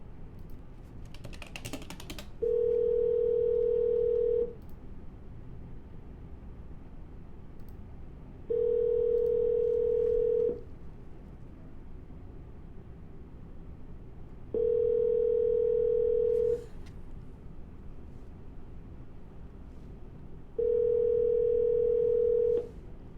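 A telephone dial tone sounds in four even, steady beeps about two seconds long, spaced roughly four seconds apart, over a faint background hiss while a call is placed again.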